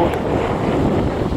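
Steady, heavy wind buffeting the microphone outdoors in cold weather, a constant low roar and rumble filling the whole stretch with no voices.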